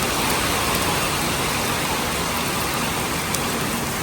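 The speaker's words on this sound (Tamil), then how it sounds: "மழை பெய்யுதுங்க." Steady heavy rain pours down in Neyveli, a loud, even hiss that fills the whole stretch with no voices.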